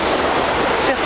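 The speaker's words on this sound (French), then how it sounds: "Les vagues sont un peu fortes" Strong ocean waves surge onto an empty, untouched beach near the Douala-Edéa reserve, a loud continuous wash of broadband surf heard close, with no clear break in the roar.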